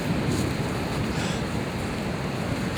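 Wind gusts across an outdoor disc golf course at a state park during a spring tournament, a loud, steady broadband roar buffeting the microphone with no pauses.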